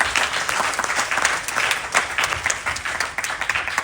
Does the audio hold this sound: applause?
yes